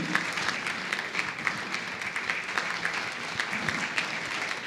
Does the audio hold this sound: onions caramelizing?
no